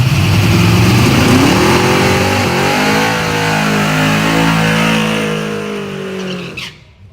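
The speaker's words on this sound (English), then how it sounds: "I like that burnout. That one of them good burnouts." A small-tire drag racing car does a burnout at a Friday night shootout at Yello Belly, its medium engine revving loud and close with shifting, rising pitch and tire screech, then cutting off abruptly near the end.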